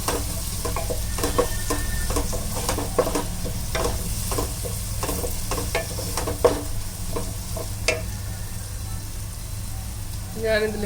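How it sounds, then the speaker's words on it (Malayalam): Chopped onion fries with whole spices in oil for pulao, a dense steady sizzle like light rain. Close stirring clicks and scrapes recur throughout at an even level. "ഹോൾ സ്പൈസസ് ഒന്ന് മൂത്ത് വരുന്ന സമയത്ത് ഇതിലേക്ക് ഒരു ഓണിയൻ ചോപ്പ് ചെയ്തിട്ട് കൊടുക്കാം"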